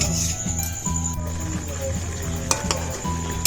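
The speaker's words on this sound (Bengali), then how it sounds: "চিকেনে তো সব তেল টেল দিয়ে পেঁয়াজ টেয়াজ দিয়ে একবারে চিকেনটা কষতে দিয়েছি" Chicken fries in oil with chopped onions, ginger-garlic paste and spices, giving a light, continuous sizzle over a low humming background for a few seconds.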